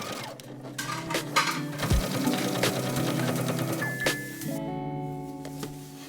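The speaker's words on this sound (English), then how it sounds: "Then just do a straight stitch on the bottom of the waistband." A sewing machine runs a straight stitch along the bottom of a skirt waistband, whirring with rhythmic clicks close by, followed by a few small clinks and thumps and no talking.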